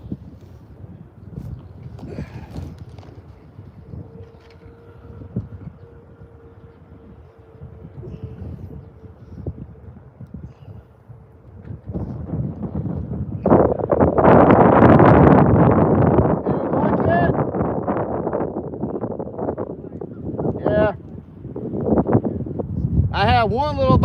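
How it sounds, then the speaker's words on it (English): Wind gusts across open water on a speckled trout fishing trip, starting as a low rumble and swelling into loud, sustained buffeting against the microphone for the second half. "And there goes the wind."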